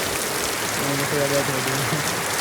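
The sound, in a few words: heavy rain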